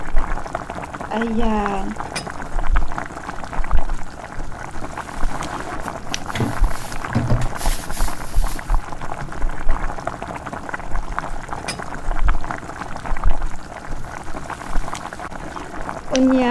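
A pot of sinigang broth bubbles at a steady boil, a continuous close bubbling and popping that runs throughout, with someone speaking over it at times.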